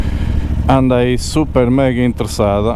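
A 2024 CF Moto 450 MT motorcycle being ridden gives a steady low engine drone that runs beneath someone talking throughout.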